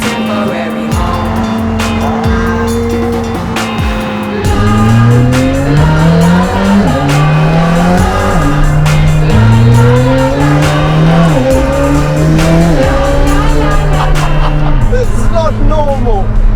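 A straight-piped McLaren Senna supercar with over 900 horsepower drives hard, its loud, raw engine rising and falling through gear changes, with tyre squeal and a steady roar filling the whole stretch.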